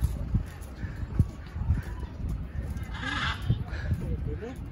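Sheep bleating during feeding at a petting zoo with goats nearby, several short bleats scattered through, mixed with people talking and background bustle.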